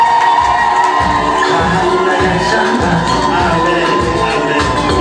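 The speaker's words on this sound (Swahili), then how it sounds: "Hebu tuweke vigelegele." Wedding guests at a church wedding service raise ululating cries and cheers together, a loud sustained crowd sound over a steady thumping beat that runs throughout.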